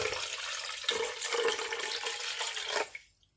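A second cup of water poured out, a steady splashing rush that runs loud for about three seconds and then stops abruptly, leaving near silence.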